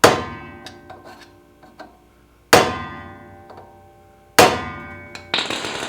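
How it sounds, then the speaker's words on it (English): A blunt screwdriver is tapped against a nut on a Vanagon big brake kit to seat it in its groove, giving three sharp, ringing metallic clangs spaced a couple of seconds apart, close and loud, with faint clicks between them. "We're going to give it a few taps to kind of set that down into that groove."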